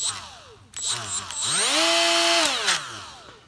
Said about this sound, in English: I'm going to do a short review on this Milwaukee 1/4-inch die grinder.